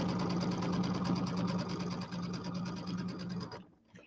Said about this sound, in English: we're doing our quarter inch seam down the other side here